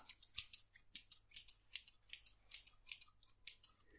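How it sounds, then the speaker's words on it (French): Scissors snip repeatedly in close, quiet ASMR style, about a dozen crisp metallic cuts in a quick, fairly even rhythm with soft pauses between them, no talking. "Et on a un ciseau."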